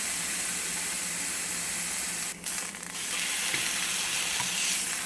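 Chicken browning in a hot pan, a steady, dense sizzle of frying that holds level throughout with a brief dip and a few small pops.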